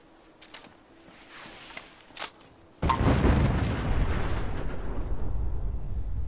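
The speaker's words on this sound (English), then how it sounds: "Tactical nuclear airstrike." A tactical nuclear airstrike detonates in Fallout 4: after scattered quieter game sounds, a sudden huge blast hits at close range and rolls into a sustained, loud rumbling roar that carries on to the end.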